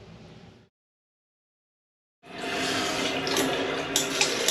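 Water rushes back through newly repaired copper pipes after a burst-pipe flood near a toilet, a steady loud broadband flow starting abruptly after a brief silence, with faint earlier running water and no talk.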